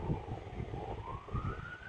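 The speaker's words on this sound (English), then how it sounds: "Forgive the siren in the background there." An emergency vehicle siren wails in the background outdoors at a cemetery, its tone sliding slowly upward, faint and distant under wind and low rumble.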